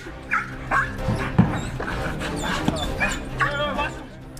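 A military police K9 dog at a training session gives several sharp, excited barks and yips, close and loud, spaced irregularly while a handler shouts commands over them.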